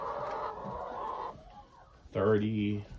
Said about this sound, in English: I think there's like 7 hens, 1 rooster over there.